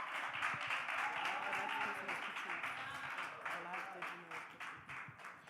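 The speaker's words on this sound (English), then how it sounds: "Clap it up for Kaylee, y'all." Faint clapping from a gathered group cheering on a presenter named Kaylee at a Monday huddle, soft and steady beneath a loud, busy layer of talking voices.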